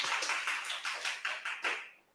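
Audience applause at a Toastmasters meeting, a dense burst of clapping that swells with several rhythmic peaks and then fades out over about two seconds, with no talking over it.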